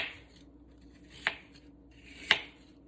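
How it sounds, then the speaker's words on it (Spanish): A knife cuts apples into slices with two distinct sharp chops about a second apart, close and crisp, between soft scraping sounds in a quiet kitchen. "Ahora les removemos el centro a la manzana y las vamos a partir así de esta forma"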